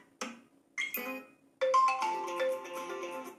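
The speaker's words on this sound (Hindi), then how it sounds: "ओरिजिनल जो रिंगटोन है वो आप देख सकते हैं, सुन सकते हैं" Original built-in ringtone of a Vivo Y21 phone playing: two short melodic chime notes separated by pauses, then a sustained, brighter tonal phrase with layered bell-like tones, clear and close.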